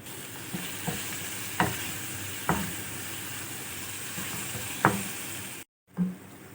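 Chicken with spices fries in a pan with a soft continuous sizzle, punctuated by a few sharp stirring scrapes and a brief break near the end.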